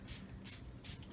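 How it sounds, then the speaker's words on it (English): Dylusions ink spray bottle misting red ink onto a paper background, three short hissing bursts in close succession, close and fairly soft with no talking. "we're going to spray some red in the corner"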